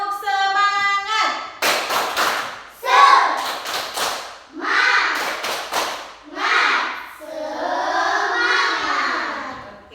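Schoolchildren in a first-grade class perform a rhythmic spirit clap, bursts of group clapping alternating with children's chanted voices in a lively, patterned sequence.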